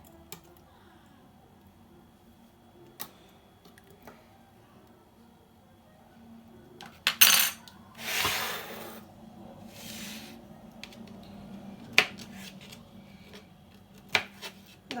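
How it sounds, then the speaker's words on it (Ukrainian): A knife cuts pineapple chunks into cubes on a board for a salad, giving sparse, sharp taps a few seconds apart. Between the cuts come a couple of longer rubbing, scraping passes, all close and quiet over low room hum. "Зараз я їх трошки переріжу."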